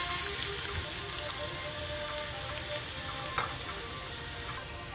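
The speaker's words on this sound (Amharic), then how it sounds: "አሁን ዘይቱንና ሽንኩርቱን እናበስለዋለን ማለት ነው" Onions frying in oil for a fava bean and eggplant dish give a steady, dense sizzle that holds unbroken and fairly loud from start to finish, with a few faint clinks and no voices.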